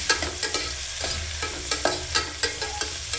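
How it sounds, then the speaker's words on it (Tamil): Four large, finely chopped onions sauté in a pan, with a steady sizzle and regular rhythmic scraping strokes of the spatula every fraction of a second, close and fairly loud, no talking. "4 பெரிய வெங்காயம் பொடி பொடியாக அரிஞ்சுக்கிறேங்க. அதை போட்டு நல்லா வணக்கிக்கோங்க."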